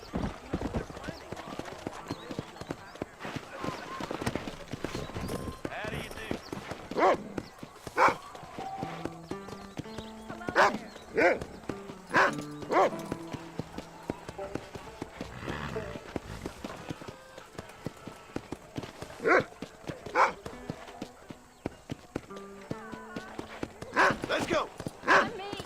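In the Red Dead Redemption video game, a horse's hooves gallop in a steady, rapid clip-clop that runs throughout, with occasional whinnies, under someone talking.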